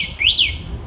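Electric motorcycle alarm giving one short, bright electronic chirp that sweeps up and back down as the alarm is switched off, close and clear over a low background hum.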